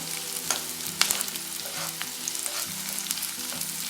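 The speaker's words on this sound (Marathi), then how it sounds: "आता हा कांदा थोडासा परतून झालाय आता मी या शेवग्याची शेंगा घालते" Drumstick pods and browned onion sizzle and crackle steadily in a pan as a zunka dish cooks, with small pops and occasional stirring scrapes throughout.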